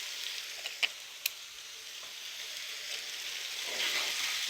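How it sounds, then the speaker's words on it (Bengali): Taro leaves and potatoes frying in oil in a pan give a steady, fairly quiet sizzle and hiss, with a couple of brief sharp crackles early on and no voices. "ভালোভাবে ভেজে নেব, একদম শুকনা শুকনা করে ভেজে নেব।"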